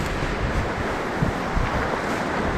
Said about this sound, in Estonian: Ikka päris suured lained on